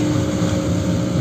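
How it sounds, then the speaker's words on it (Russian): A small snowplow tractor clears a snowy path, its engine a steady, loud, close drone with wind-like rushing noise and no voices. "Вот эту вот дорожку очищает как раз этот снегоуборочный трактор маленький."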